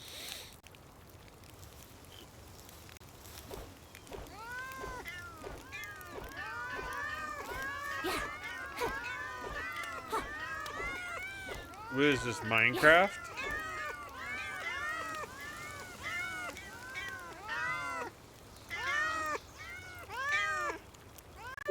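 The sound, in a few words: cats meowing from Meow Mir weapon in video game Palworld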